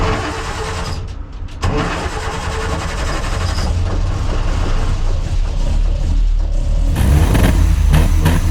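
A Land Rover's starter cranks briefly before the engine catches and settles into a loud, steady, close running note.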